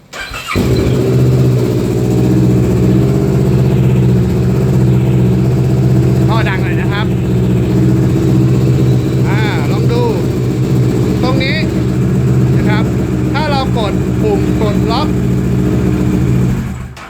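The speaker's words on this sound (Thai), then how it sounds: "ตอกเบ้าแล้วเรียบร้อยก็สตาร์ทเครื่องยนต์" A Kawasaki ER6N motorcycle engine starts after its ignition lock is forced and then idles loud and steady. Someone talks over the even, continuous drone throughout.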